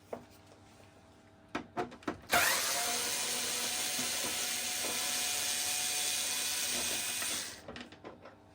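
A few sharp mechanical clicks lead into a steady, high-pitched whirring burst of about five seconds as a tool loosens fairing screws on a BMW F 900GS motorcycle, close up, followed by a few trailing clicks.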